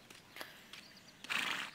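A horse in the Barbie Horse Adventures: Mystery Ride video game gives a short, bright whinny near the end, after a few faint soft taps, with no talk.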